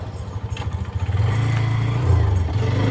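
A Kawasaki ZX-R motorcycle engine runs close and loud, a throbbing idle that swells into a steadier, higher drone as it is revved.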